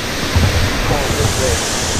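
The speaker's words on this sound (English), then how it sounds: "First stop, a big fucking waterfall" A big waterfall on an island boat trip in Myeik, Myanmar, roaring as a loud, dense, unbroken rush of falling water, close by, with voices faintly mixed in.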